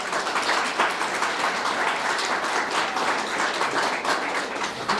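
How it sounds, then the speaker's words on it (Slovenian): Sustained audience applause at a gathering for elderly people in a Slovenian inn, dense even clapping from a full room lasting several seconds at moderate level, alone without talk. "Hvala za ta aplavz"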